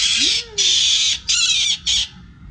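An injured Oriental dollarbird gives four loud, harsh rasping screams in quick succession, close by and alone.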